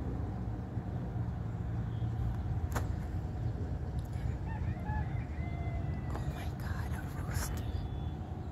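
A rooster crows faintly in the distance, heard from a 12th-floor view in New Jersey, its call drifting over a steady rumble of traffic and outdoor noise.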